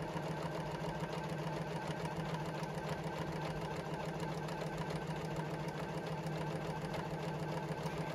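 A JUKI sewing machine runs steadily, stitching along the edge of tote bag strapping with a fast, even mechanical whir that holds unbroken and fairly quiet for the whole stretch.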